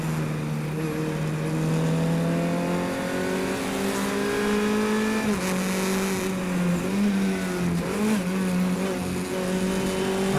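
Race car engine at a Pittsburgh Fire & Ice Majors race, holding a high steady drone that climbs, then stumbles and dips unevenly as if a downshift was missed into a hairpin, loud and continuous with no talking.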